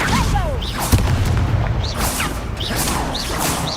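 Spell combat in Hogwarts Legacy, with repeated blasting impacts and whooshing casts in quick succession, including Confringo explosions. One sharp boom lands early, set against rising whistles and crackling bursts.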